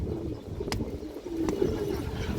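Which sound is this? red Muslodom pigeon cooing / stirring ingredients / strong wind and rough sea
red Muslodom pigeon cooing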